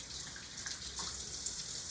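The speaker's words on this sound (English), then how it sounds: "Go ahead, turn your sink on, stick your little meat mitts under the water" Water runs steadily from a sink tap, a continuous close hiss and splash with slight fluctuations as hands move under the stream.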